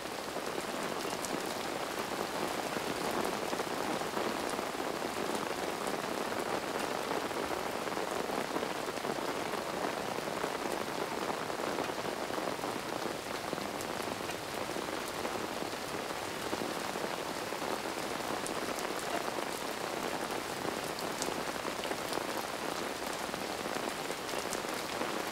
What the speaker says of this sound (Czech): poslední přeháňky se proháněly ještě za rozbřesku